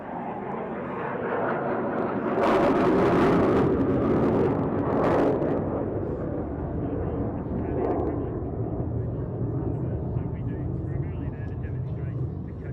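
Aircraft of the RAAF Roulettes aerobatic team flying past at the Mindil Beach air display during Exercise Pitch Black 24, a broad steady engine roar that swells early and holds, with a commentator talking over it.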